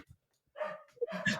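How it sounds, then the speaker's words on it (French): A dog barks indoors during a live remote-work broadcast from home, a few short yaps and whimpery barks that are fairly faint and scattered, after a near-silent gap. "il y a un chien qui aboie"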